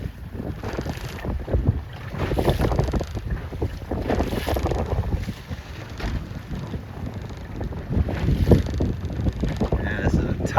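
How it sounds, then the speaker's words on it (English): Strong wind gusts buffet the microphone on open water during a sailboat regatta, a loud, continuous roar rising and falling with the hiss and slap of the sailboats underneath. "My God, there is more wind out here, you guys."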